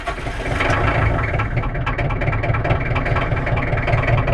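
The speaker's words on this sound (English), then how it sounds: "Give it about 10 seconds or so on the glow plugs before we crank it over." Kubota M9000 diesel farm tractor engine running steadily after a glow-plug start, a loud, continuous low rumble with a rough idle throb and no talk.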